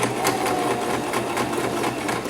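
A sewing machine stitches a wig tag in a steady, fast mechanical whir with a regular needle pulse, close and continuous, with no talk.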